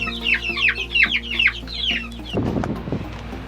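Young chickens in their coop give a rapid series of bright, high clucks and peeps, close and clear, before breaking into a scuffle of rustling and shuffling.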